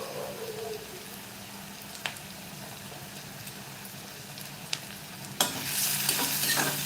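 Onion being stir-fried in a pan for a prawn curry, a steady low sizzle with a few scraping stirs and a louder clatter near the end, close by with no voices.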